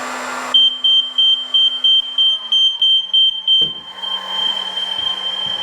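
Smoke detector alarm set off by a heat gun: a rapid train of loud high-pitched beeps sounds over the gun's blowing hiss, then the beeping stops and the blower continues alone, no talking.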